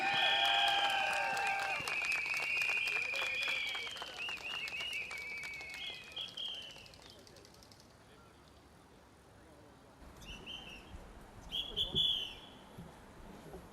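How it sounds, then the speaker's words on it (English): Audience applause at an evening outdoor SDP election rally in Bukit Panjang, a burst of clapping mixed with whistles and chatter that fades, then sporadic scattered claps return near the end. "can you all give a clap to Arifin, please?"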